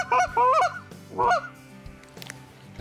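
Several snow geese honk in quick bursts, clear and fairly close, during a hunt in Ontario, then the calls fade to quieter background noise.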